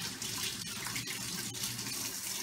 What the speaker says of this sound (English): I keep my water slightly going so I can dip my hands in it because it gets sticky.